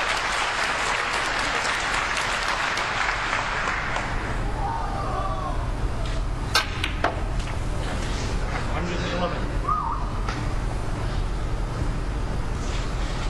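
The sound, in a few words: audience applause at a snooker match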